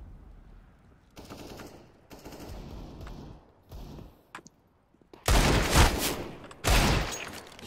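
Bursts of automatic gunfire in Counter-Strike: Global Offensive, several rapid volleys, the last two loud and close, separated by brief quieter gaps.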